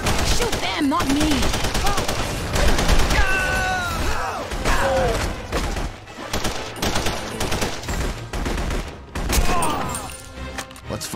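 Dense, loud gunfire from a shootout in The Punisher video game, with rapid bursts and shots stacking over one another while voices shout through the action.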